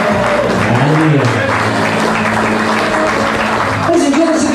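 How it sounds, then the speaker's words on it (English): Loud, sustained applause from a wedding crowd for the bride and groom, steady clapping filling the room with a short swell near the end and a voice speaking over it. "they give them a big round of applause"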